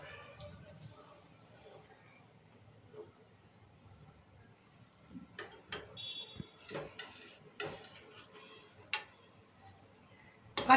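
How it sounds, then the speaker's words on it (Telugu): A spoon scrapes and clinks against a pan while masala paneer curry with coriander is stirred, giving faint, irregular metallic taps and scrapes under soft talk. "కలుపుకుందాం ఒకసారి."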